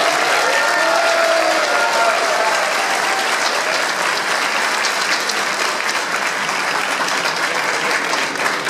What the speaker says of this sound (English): I never get this kind of round of applause in my own city